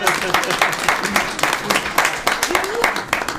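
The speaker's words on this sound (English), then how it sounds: "Odell, give her a round of applause." A small audience at a board of commissioners regular meeting applauds a winner, with brisk, fairly close clapping running throughout and a voice speaking over it partway through.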